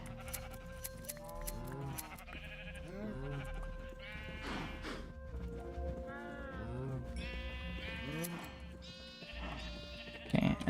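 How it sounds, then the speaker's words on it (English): Sheep in the Minecraft video game bleat repeatedly in short, clear, close calls that overlap from more than one animal, with game sound effects in between. "And then we'll also shear our sheep too."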